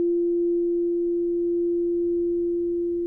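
A steady pure sine tone around 172 hertz, roughly an F, tuned as Earth's Om frequency, holds unbroken and fairly loud for about three seconds with no other sound.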